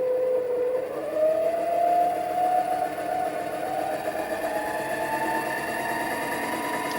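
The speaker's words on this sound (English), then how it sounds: "you can hear how quiet this one is when you have brushless motor." A mini metal lathe driven by a brushless motor whirs at a moderate level, its steady whine rising in pitch as it spins up and then holding an even, smooth tone.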